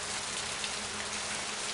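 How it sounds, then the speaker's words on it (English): Light drizzle falling, a dense, even hiss of fine raindrops with no distinct individual hits, steady and moderately quiet throughout. "Just a drizzle."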